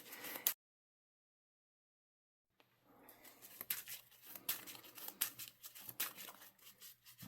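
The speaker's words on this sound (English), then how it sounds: "I'm going to go ahead and shuffle these up real quick." A deck of trading cards gets shuffled after a brief silence, producing a close, soft stream of riffling and flicking bursts in an uneven rhythm.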